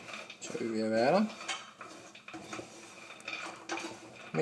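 A utensil scrapes and clinks steadily against a pot while burnt almonds coated in liquorice are stirred as they cool, with a brief squeaky scrape near the start and repeated quieter metallic taps after it.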